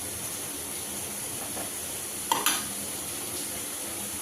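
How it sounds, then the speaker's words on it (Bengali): Potatoes and onions sizzle steadily in a pan with salt, a continuous hiss with a couple of sharp clinks of a utensil midway. "লবণ দিয়ে দিলাম, একটু ভাজা হবে"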